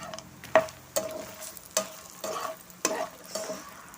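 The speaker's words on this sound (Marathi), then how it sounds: "तर त्याच्यामध्ये हे मी मखाणे परतून घेते" Fox nuts (makhana) sautéed in ghee in a pan, with a spoon scraping and tapping at an irregular pace against a low sizzle.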